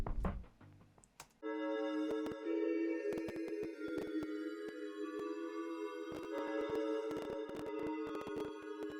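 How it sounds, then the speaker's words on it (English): Analog Lab synth preset Native Fantasy playing a sustained, atmospheric chord pad with a shimmering upper layer and clicky percussive ticks, after a brief lower rumble at the start; loud and steady, with no voices. "Got this Analog Lab preset, Native Fantasy,"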